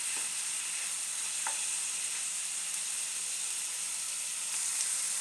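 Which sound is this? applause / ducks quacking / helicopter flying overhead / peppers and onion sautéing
peppers and onion sautéing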